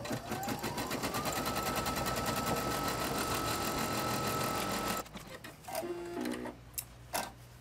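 An embroidery machine stitches a placement line on fabric for a wall hanging block, a fast steady mechanical whir and ticking up close that stops abruptly partway through, leaving faint handling clicks.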